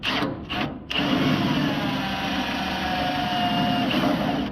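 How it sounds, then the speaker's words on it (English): A power drill whines steadily into car body metal, drilling out spot welds, after a couple of brief starts, a continuous grinding buzz up close with no speech. "So going through and drilling all the spot welds out now"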